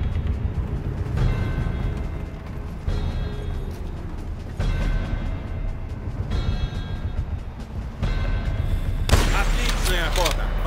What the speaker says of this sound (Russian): Военные наверняка слышали выстрелы.